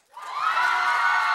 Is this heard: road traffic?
no